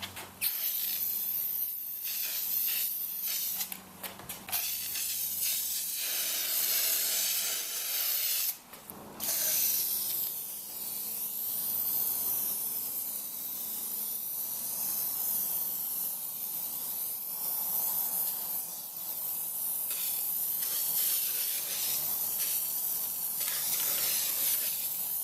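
A rattle can of black spray paint hisses onto a Toyota Tundra grill in long, close bursts, sputtering and spitting unevenly, with brief pauses between passes.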